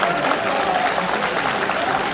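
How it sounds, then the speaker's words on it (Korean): Steady, dense applause from members of a People Power Party gathering welcoming the newly elected interim chairman, sustained and even throughout with no speech over it. "모두 큰 박수로 임시의장을 환영해 주시기 바랍니다."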